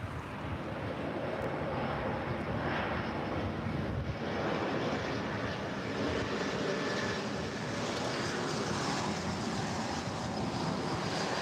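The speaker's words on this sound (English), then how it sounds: "This next arrival is Delta Airlines Flight 708 coming in from San Antonio." A one-year-old Delta Airlines Airbus A220-300 arriving at LAX produces a steady, broad jet engine roar that holds strong throughout, mixed with wind rumble and with no voices.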